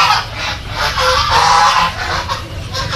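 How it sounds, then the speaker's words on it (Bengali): Chinese geese honk close by in a loud, harsh series of calls that overlap and repeat for a few seconds. "এই যে এটা হচ্ছে চীনা হাঁস বলে এটাকে।"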